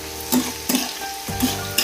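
Onions sizzling in hot oil with bay leaves, stirred three times with a utensil scraping the pan, each stir bringing a burst of crackle over a steady fry, no voices.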